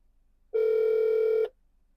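A BMW 2 Series SOS emergency call rings, a single steady electronic tone about one second long, clear and close against near silence.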